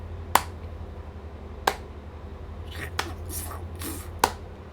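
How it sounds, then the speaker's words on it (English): Slow, deliberate clapping in an audio story: four sharp, separate claps roughly a second and a quarter apart over a low steady hum, with faint hissy rustles between the later claps. "Then they hear slow clapping sounds."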